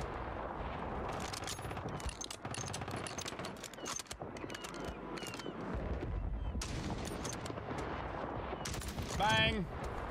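Rapid gunfire from an online shooter battle on Rebirth Island with a KAR98K rifle loadout: dense bursts of shots and impacts throughout, busy and loud, with a sharper burst near the end.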